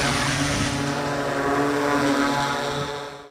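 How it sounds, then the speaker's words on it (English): A thermal camera drone's propellers buzz in flight, a loud, steady, close whine that holds evenly for several seconds before cutting off abruptly at the end. "We brought the drone with us and we'll see what happens."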